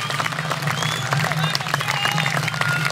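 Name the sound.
crowd applauding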